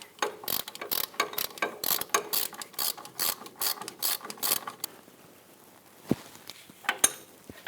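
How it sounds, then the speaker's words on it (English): A ratchet snugs down the pinch bolt on a Hummer H3 upper control arm with a rapid series of close, crisp clicking strokes, then a few scattered clicks after a pause. "snug down that pinch bolt"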